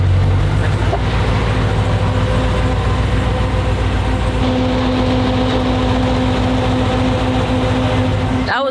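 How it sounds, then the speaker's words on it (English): A spud truck's engine runs steadily and close by as the truck is driven out under its own power with the fans running, giving a continuous low rumble with a droning hum on top. "We're gonna pull it out for the first time on its own power, with its ignition, with fans running"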